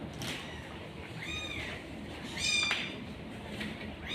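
Kitten meows, a rescued cat among abandoned kittens in a home, a couple of short high meows around the middle and later, moderately near, over a steady background hiss.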